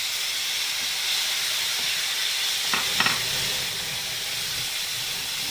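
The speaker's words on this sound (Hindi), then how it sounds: "अदरक के भुनते ही इसमें मैंने 4 टमाटर ग्रेट करके रखे हैं उनको डाल देंगे" Ginger and grated tomatoes fry in ghee in a pan for a Navratri potato sabji, giving a steady close hiss and sizzle throughout, with a couple of brief clinks of stirring near the middle.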